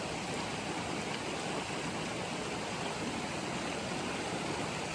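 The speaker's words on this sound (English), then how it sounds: "Very cool river." A river in a burn area along the Continental Divide Trail in Idaho flows steadily, a constant broad rushing wash of water, close and even throughout with no talk.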